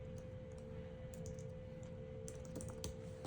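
Faint, quick clicks of a computer keyboard being typed on in a quiet room, irregular taps scattered across a steady low electrical hum, with no talking.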